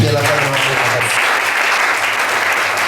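Church congregation applauding at a New Year's Eve service, dense continuous clapping filling the space, with a voice speaking briefly at the start.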